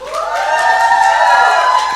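A live crowd at a celebration event for Wenger & Watson cheers and shouts in a steady, loud, sustained roar that holds for about two seconds.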